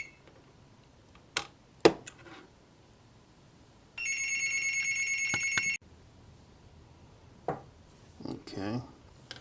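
An indoor telephone rings in one loud, sustained electronic trill lasting about two seconds, between scattered clicks and thumps from workbench activity during a model flat car build.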